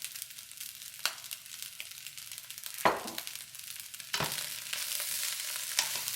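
Salmon fried rice, seasoned with white pepper and sesame oil, sizzles steadily as it browns in a pan, with a few louder stirring scrapes and no talking.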